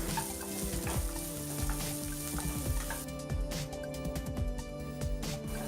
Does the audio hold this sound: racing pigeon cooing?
no